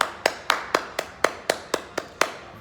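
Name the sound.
hand clapping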